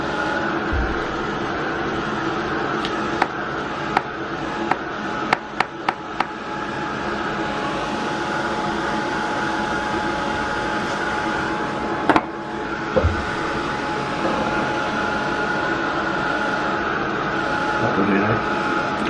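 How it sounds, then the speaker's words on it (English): A steady, loud blowing hum of a heat gun running continuously, with a few sharp clicks and knocks near the start and middle. "It's extremely hot, this heat gun."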